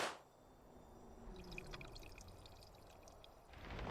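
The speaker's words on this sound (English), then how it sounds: "Why did this sound like somebody popped a balloon and then poured a drink?" A game sound in Final Fantasy XIV resembling a balloon pop followed by a poured drink: a sharp burst at the start, then a faint, steady liquid pouring trickle with light glinting drips, ending in another soft burst.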